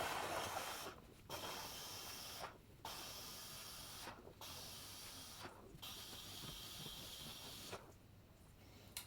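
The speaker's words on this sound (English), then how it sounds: "So I'm going to use this steamer" A handheld steamer hisses steadily against interior fabric upholstery, a close broadband spray broken by four or five brief pauses as the nozzle lifts, with no talking.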